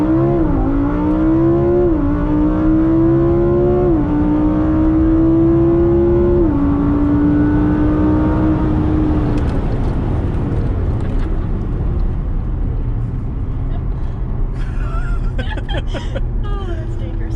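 A Lamborghini Huracan launches and accelerates hard, its engine note climbing through several gear shifts in loud rising surges before fading into road roar, with people talking and exclaiming over it.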